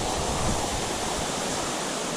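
Indian Flats Falls, a multi-tiered waterfall reached by Middle Prong Trail, pours with a steady, broadband rushing roar, loud and close, unbroken and without any talking.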